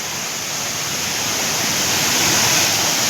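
Heavy stream water rushes steadily and loudly at night in the rain, a dense unbroken roar that swells slightly toward the end, with no voices.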